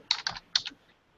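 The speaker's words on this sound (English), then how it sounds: "Keyboard." Computer keyboard typing in short quick bursts of clicking keystrokes, two clusters close together, fairly quiet, during a live talk broadcast about UFC news, with no speech over it.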